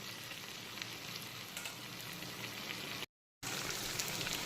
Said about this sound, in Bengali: চাল, মাছের মাথা আর সমস্ত মশলার সঙ্গে খুব ভালো করে মিক্সড করে একটু কষিয়ে নেব।